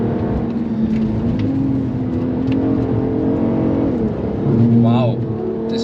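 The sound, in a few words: Mark IV Golf engine downshifting on Nürburgring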